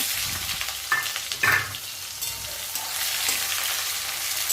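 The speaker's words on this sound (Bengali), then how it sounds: "পেঁয়াজটা হালকা লাল লাল করে ভেজে নেব" Chopped onion sizzles in hot oil tempered with bay leaf and whole cumin, a steady close broadband crackle with a few sharp spatula scrapes and clinks against the pan.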